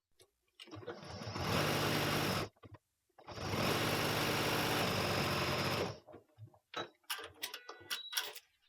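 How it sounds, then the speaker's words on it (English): A sewing machine stitches fabric for foundation piecing in two loud, steady runs of rapid mechanical whirring, separated by a short pause, followed by softer clicks and handling noises. "I'm going to stitch this now."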